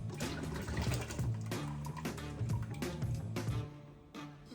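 Water running and swirling while rinsing leftover sugar from a vessel for stinging nettle mead, a steady close gush and slosh that pauses briefly near the end, with no voices.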